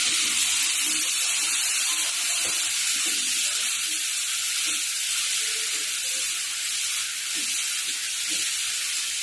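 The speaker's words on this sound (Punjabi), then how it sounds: "ਟਮਾਟਰਾਂ ਦੇ ਨਾਲ ਹੀ ਆਪਾਂ ਆਲੂ ਪਾ ਦਵਾਂਗੇ" Potatoes and tomatoes sizzle in a pan as an amaranth and potato curry cooks, a steady, close hiss of frying running through with faint stirring and no talk.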